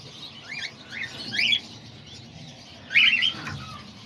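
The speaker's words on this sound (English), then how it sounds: "those are the baby cockatoos that I have right now" Baby pet cockatoos and parakeets give short, close, bright chirps in a few quick bursts, with a louder squawky call near the end, over a quiet room background.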